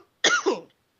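A single short, close cough, quick and dry, with silence before and after.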